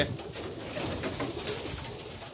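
Pigeons cooing softly and steadily, a low murmuring of several birds close by against a faint hiss of background noise.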